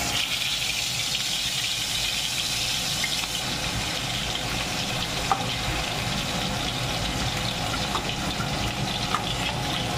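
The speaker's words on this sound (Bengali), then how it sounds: "এখন এটাকে ভাজবো, ভেজে রান্না করব।" Rohu fish pieces rubbed with salt and turmeric fry in hot oil, a steady, dense sizzle and crackle holding evenly throughout with a few faint pops rising above it.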